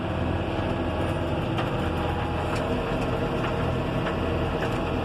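John Deere 6190R tractor cruising at over 40 km/h at low engine revs, a steady broadband engine and road drone with a low rumble, heard continuously from inside the quiet cab.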